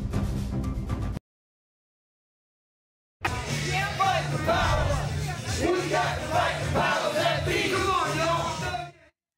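A large live crowd chants and shouts along as a rapper leads his 1989 hit, loud and dense, following a short opening burst and a stretch of silence.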